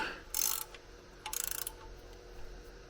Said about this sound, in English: Now we're gonna tighten up these bolts, and then we're done with this too.